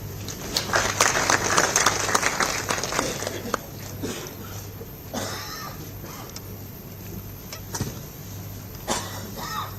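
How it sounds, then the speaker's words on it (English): An audience applauds to welcome General Anil Chauhan, Chief of Defence Staff, at the DefSAT 2024 defence space event; dense clapping swells at the start, then thins into scattered claps and room noise under a faint steady hum. "Please welcome with an applause"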